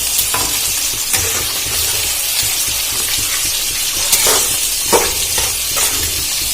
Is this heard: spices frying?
yes